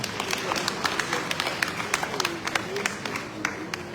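Audience applause at the Ibile Eko indigenous people's summit in Lagos, a steady wash of crowd clapping with sharper individual claps popping out, lasting throughout at moderate level with a faint tonal murmur beneath.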